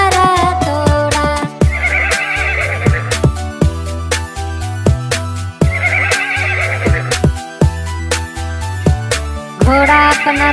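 A recorded horse neigh plays within a Hindi children's rhyme about a wooden horse, whinnies rising over a bouncy, loud musical backing with steady percussion, repeating at intervals through the song.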